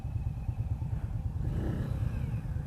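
A 2018 Indian Scout Bobber motorcycle runs at a demo day ride with a close, low, throbbing engine rumble that pulses steadily while cruising, with no talk.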